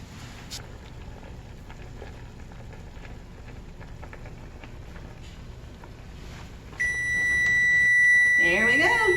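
A kitchen timer set for canning squash and onions gives a sharp, loud electronic beep near the end, following quiet kitchen background noise.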